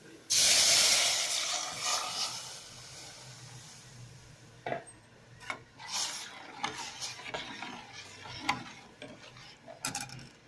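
Milk goes into a hot pan of sweet potato kheer with a sudden loud hiss that fades into softer bubbling, followed by scattered close clinks and scrapes of a spoon against the pan.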